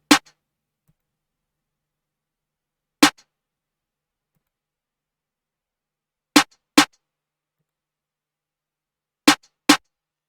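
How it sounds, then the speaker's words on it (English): Chicago snare drum sample played in FL Studio for a beat: sharp isolated hits separated by silence, single strikes at first, then pairs of quick hits, dry and close. "Chicago snare, of course."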